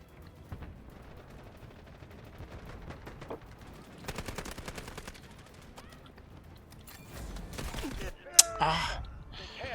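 An artillery barrage in the shooter game Delta Force, made of rapid, crackling bursts of gunfire and heavy blasts that swell toward the end, with a sharp peak near the close and a voice talking over it.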